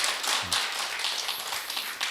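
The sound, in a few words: audience applause in a church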